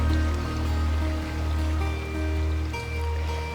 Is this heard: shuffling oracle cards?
no